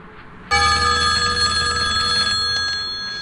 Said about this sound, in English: That phone went off.